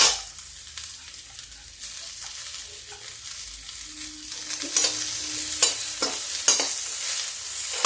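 Onions, added after garlic, sizzle and crackle steadily in a hot pan with a spoonful of oil, with occasional scraping stirs; the frying grows a little louder toward the end, no voices.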